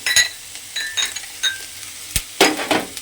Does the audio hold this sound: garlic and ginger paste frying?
yes